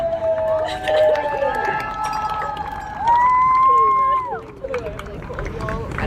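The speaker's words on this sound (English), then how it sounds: "Ladies and gentlemen, let's hear it for Senior Sydney Gaffney!" A crowd at a high school game cheers and shouts for a senior, with high-pitched voices and whoops rising and falling over a busy background of crowd noise.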